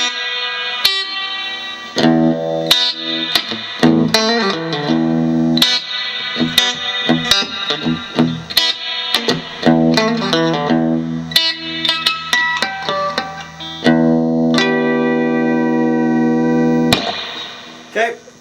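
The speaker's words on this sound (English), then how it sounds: "Here's what reverb does." An electric guitar played through an amplifier with its reverb effect turned up, a series of picked notes and chords ringing out with long echoing tails, loud and alone.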